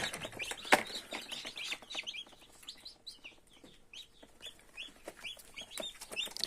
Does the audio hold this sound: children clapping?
no